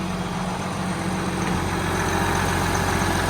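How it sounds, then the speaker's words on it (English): Case 4494 tractor engine idling in Farming Simulator 19, a steady, smooth low rumble with a constant even hum running throughout without any break. "So, quite a smooth engine"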